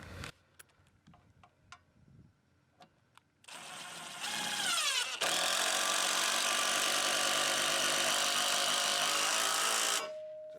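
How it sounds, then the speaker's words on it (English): After a few light taps, an impact driver whirs up and then hammers loudly and continuously for several seconds as a screw is driven into wood, stopping abruptly. "until the socket or the impact hammer brings up a little bit of resistance"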